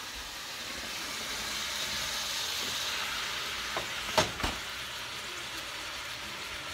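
Chopped steak meat simmering in a pan gives off a steady, broad sizzle that fills the whole stretch, with a couple of sharp utensil knocks against the pan just past the midpoint.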